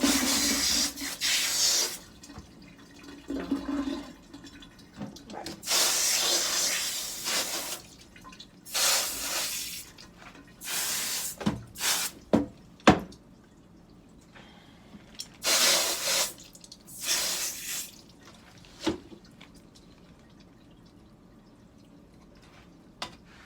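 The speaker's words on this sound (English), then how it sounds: "First, I'm going to wash my hands, though. This water can come really hot eventually." Tap water running into a sink during handwashing before stoneware paperclay work, coming in bursts as the flow starts and stops, with splashes and drips in between, fairly close and with no talking.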